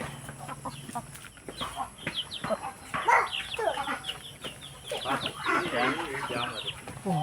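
Chickens cluck repeatedly at close range, with a busy cluster of calls midway, over faint background noise.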